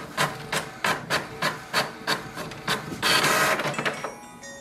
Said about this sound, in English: So it sends a command for the printer to print the printer information page.